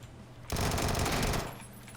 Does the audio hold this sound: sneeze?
no